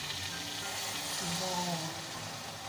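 Chicken biryani is mixed in a pot, giving a soft, continuous sizzle with faint scraping as the rice and meat are turned, close and low in level.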